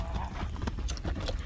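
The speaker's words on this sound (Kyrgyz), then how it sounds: "Мына атты көрүп турасыздар." A horse walks nearby, its hooves clip-clopping in a quick series of close, distinct strikes over a low rumbling background, with faint voices in the mix.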